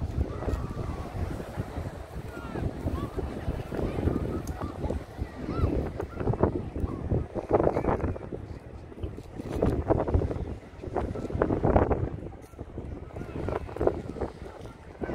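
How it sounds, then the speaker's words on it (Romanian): Wind gusting across a Black Sea pier at Eforie Nord, a steady broadband rush with stronger buffeting swells around eight and twelve seconds, heard throughout without clear talk. "Bate vântul, ce-i drept."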